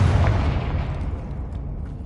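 A Confringo fire spell explodes in Hogwarts Legacy on PS5: a loud, close, deep boom opening at full force and rumbling away over about two seconds, with no voices.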